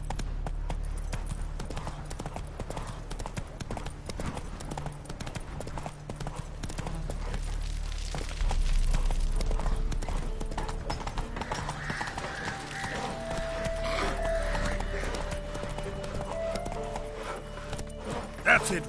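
A horse from the video game The Witcher 3 gallops in a steady, rhythmic run of hoofbeats that continues throughout, with a voice heard briefly along the way.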